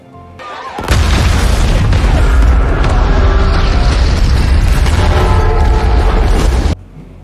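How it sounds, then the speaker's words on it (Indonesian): Two planes explode in the film Greenland, a sudden massive boom followed by several seconds of loud, roaring blast and debris rumble that then cuts off abruptly. "bahkan membuat 2 pesawat meledak"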